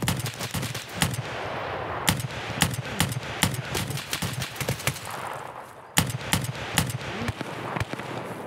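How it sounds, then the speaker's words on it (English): Gunfire in the online shooter Escape From Tarkov, with dense, continuous volleys of sharp shots in rapid and irregular bursts, some close and loud, others overlapping in the background, with no talk over them. "Oh my god, there's shots everywhere."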